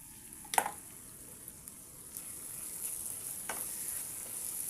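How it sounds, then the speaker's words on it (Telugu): Masala for shrimp curry fries in a pan with a quiet steady sizzle and a few brief stirring clinks and scrapes. "దీన్ని ఇంకా ఒక రెండు మూడు నిమిషాలు ఫ్రై అవ్వనివ్వండి"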